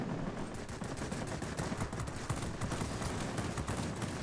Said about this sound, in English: let's get that 37mm cannon hitting.